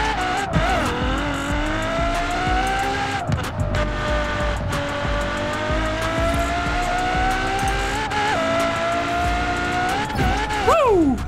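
Car in Forza Horizon 4 accelerating steadily with a loud, rising engine whine and gear changes, tires squealing near the end, sustained and close.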